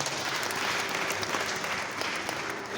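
A congregation at a church wedding ceremony in ADPR Nyamasheke applauds, a dense, continuous wash of many hands clapping at an even level throughout.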